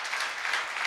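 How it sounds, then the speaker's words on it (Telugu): A church congregation at a Sunday service claps loudly in a brief, dense burst of hand claps, bright and steady without talk. "నమ్మినోళ్ళు గట్టి చప్పట్లు కొట్టండి"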